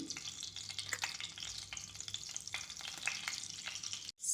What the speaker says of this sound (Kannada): ಸಾಸಿವೆ ಜೀರಿಗೆ ಎಲ್ಲ ಚಟಪಟ ಅಂತ ಇದೆ